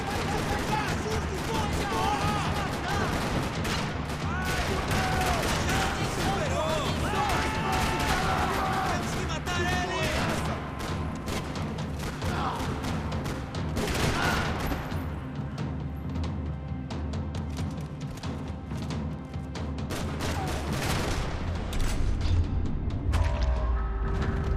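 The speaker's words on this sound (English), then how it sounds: "Another parking lot rattling with gunfire." Dense, continuous gunfire rattles through a parking lot in the video game Max Payne 3, with rapid overlapping shots and booms filling the whole stretch beneath game voices.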